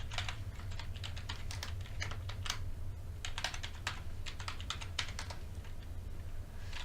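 Password typed on a computer keyboard, quiet rapid key clicks in quick bursts with brief pauses over a low steady hum, no talking.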